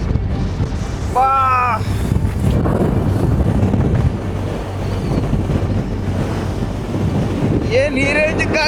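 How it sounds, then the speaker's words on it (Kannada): Strong wind gusts buffet the microphone on the open seashore at Kanyakumari, a constant roaring rush with surf beneath, while brief voices rise over it at the start and end. "ಏನ್ ಈ ರೇಂಜ್ ಗಾಳಿ ಬೀಸ್ತಾ ಇದ್ದಲ್ಲ ಇಲ್ಲಿ."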